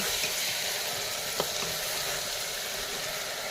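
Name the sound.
chicken curry sizzling and frying while stirred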